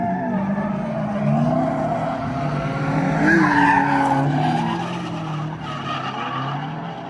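An LS-engined BMW E30 under full throttle, tires squealing and skidding with a rising, wavering engine roar, close and loud throughout for about seven seconds.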